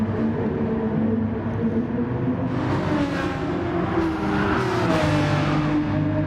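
Porsche race car engine in the video game GT Sport at Brands Hatch, a steady loud drone with rising and falling revs as the car follows closely behind another racer.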